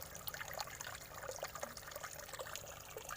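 Water trickles from a frog-shaped fountain into a fish pond as a small waterfall, a steady close splashing and dribbling that continues throughout with no voices.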